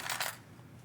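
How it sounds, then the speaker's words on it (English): Loose metal fountain pen nibs clink and rattle briefly as they are rummaged through, a quick cluster of faint metallic taps close by, then near silence. "I gotta go nib digging here"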